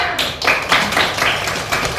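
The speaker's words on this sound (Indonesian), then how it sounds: "Tepuk tangannya." Classroom students clapping hands together in an Islamic moral studies lesson, a dense burst of close, fast claps running throughout without a pause.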